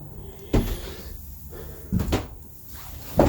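A sliding door on a Nauticat 38 boat rolls and bumps three times, each with a solid knock, separated by quiet pauses.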